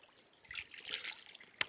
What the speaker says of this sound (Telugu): ఇది వాటర్ ఎక్కడి నుంచి వెళ్తుంటుంది కానీ వాటర్ చాలా చల్లగా ఉంటుంది